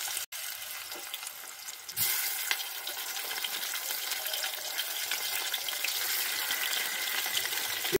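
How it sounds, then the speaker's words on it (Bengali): Pieces of catla fish fry in hot oil in a pan, giving a steady, close hiss and crackle that carries on for the whole stretch after a short gap near the start. "আর কয়েক পিস আছে, এগুলোও ভেজে নিচ্ছি।"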